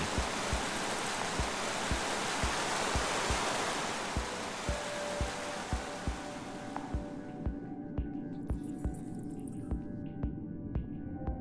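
Waterfall in the Minecraft Story Mode game: a broad, steady rushing roar that thins out toward the end, with a regular low thumping pulse and faint tonal hum underneath.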